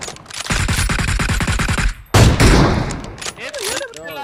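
Rapid automatic gunfire in PUBG Mobile empties a magazine in a loud close burst of evenly spaced shots, then a second heavy volley, with someone talking over the end.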